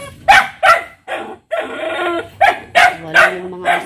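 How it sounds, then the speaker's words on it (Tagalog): Several dogs, among them an old one called Chichay, bark in close, loud repeated bursts from a cage at a family home. A drawn-out whine runs between the bark volleys. "Dami namin pinapakain ng aso."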